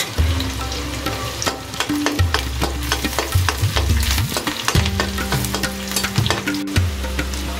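Slit whole green chilies frying with onions in a pan, a loud close sizzle broken by repeated clattering scrapes of a spoon stirring against the metal, no talk.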